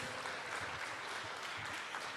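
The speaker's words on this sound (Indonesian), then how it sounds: "Boleh tepuk tangan Ibu Bapak." Audience applause at an Indonesian higher-education launch event, a steady dense wash of clapping from a large crowd, fairly distant and even throughout.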